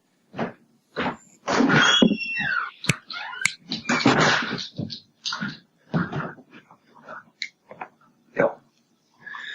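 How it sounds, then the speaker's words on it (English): A dog barks and yelps in a string of short, sharp bursts, close by, with uneven pauses between calls. "I'm going to let my dog in because my dog's barking."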